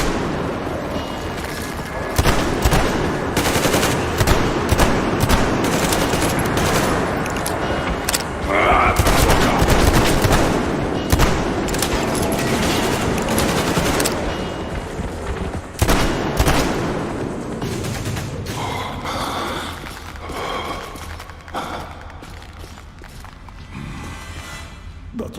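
Heavy gunfire against mutants in the video game Metro Exodus: dense bursts of rapid shots and booming blasts crowd the whole stretch, loud and near, with a few quieter gaps between volleys.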